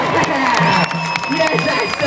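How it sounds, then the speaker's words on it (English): A crowd claps and cheers at a trials bike show, a brief burst of applause and whoops mixed with a voice talking over it. "There's people clapping all over here"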